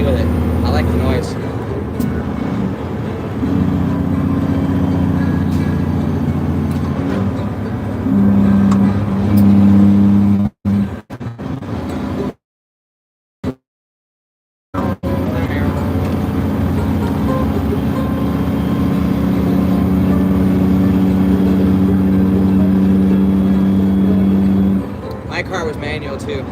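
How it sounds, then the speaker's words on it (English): Manual 13-speed truck engine at night, a steady low rumble with tonal drone that rises and falls with revving, briefly cutting out near the middle before resuming, with talk heard over it. "my truck's manual. 13 speed. That's why it's loud sometimes and then it's quiet"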